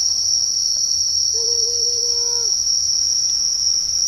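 Cicadas freshly emerged from the soil sing in a steady, high, continuous buzz that fills the whole stretch at close range, with a brief faint chirp rising over it midway.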